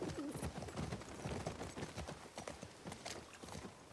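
Horse hooves clip-clop at a steady riding gait in The Last of Us Part 2, a rapid rhythmic patter of footfalls with faint snorts mixed in, quiet and continuous.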